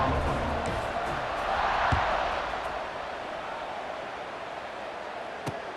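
Stadium crowd noise in EA College Football 26 as South Carolina and Tulane line up for a kickoff, a broad, steady roar that swells briefly and then settles into a constant wash, with no voices standing out.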